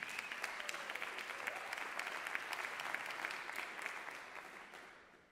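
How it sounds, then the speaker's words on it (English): A spoken word and poetry night crowd applauds a performer, a dense, steady clapping that holds strongly, then gradually fades toward the end. "One more round of applause for Matt Davis."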